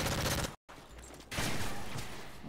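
Gunfire in a Call of Duty: Modern Warfare 3 multiplayer match: loud bursts of shots fill the clip, broken by a brief silent dropout, then another dense volley follows.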